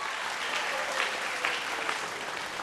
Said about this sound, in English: A round of applause, please, for our sponsors and production partners.